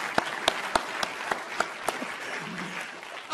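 An audience applauding at a leadership forum, a dense spread of clapping with sharp individual claps standing out, moderately close and sustained for a few seconds with no speech over it.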